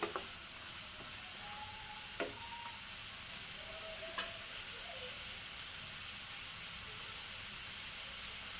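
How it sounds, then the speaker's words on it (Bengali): Sea fish sizzles with salt in a frying pan, a faint continuous hiss with a few soft stirring clicks and scrapes spread out, distant and low. "লবণ দিয়ে হচ্ছে আর একটু নাড়াচাড়া করে দিচ্ছি"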